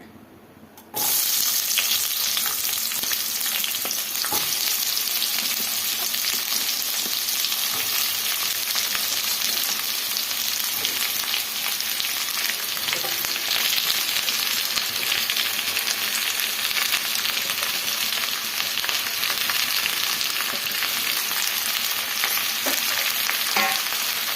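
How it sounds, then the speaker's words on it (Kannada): Chopped onions frying in hot oil for a Karnataka-style onion chutney, a loud steady sizzle that starts abruptly and keeps going without a break, with occasional scrapes from stirring and no one talking. "ಚೆನ್ನಾಗಿ ಈ ಥರ ಹುರ್ಕೊಳ್ಳೋಣ ಈರುಳ್ಳಿ ಚೆನ್ನಾಗಿ"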